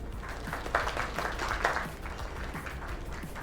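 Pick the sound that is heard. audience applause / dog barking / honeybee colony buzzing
audience applause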